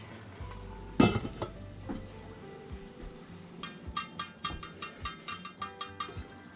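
A lid clanks down onto a pot of sotanghon guisado with one loud metallic knock, followed by a quieter run of light rhythmic clinks and taps of metal and glass.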